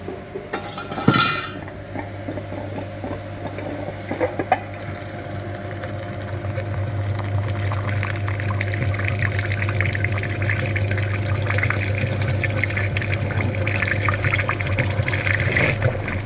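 A flushing machine pumps liquid through the heater radiator of an Opel Omega B. A few metallic clanks give way to a steady mechanical hum with a liquid rush that grows gradually louder.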